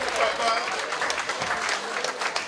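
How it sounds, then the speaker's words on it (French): Applause from wedding guests, a brief burst of many hands clapping at moderate volume, with murmuring voices mixed in. "On applaudit."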